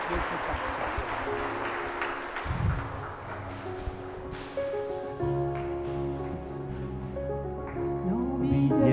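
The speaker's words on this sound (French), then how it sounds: "nous pouvons les applaudir" A church congregation applauds during a Saturday Catholic Mass, a brief rush of clapping that soon gives way to singing and instrumental music.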